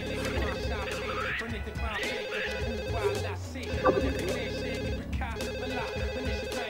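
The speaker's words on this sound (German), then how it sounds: "Telefon ist egal." A telephone rings inside The Sims life-simulation game, its repeated electronic rings sitting among busy game music and interface sounds at moderate loudness, continuing through the whole stretch.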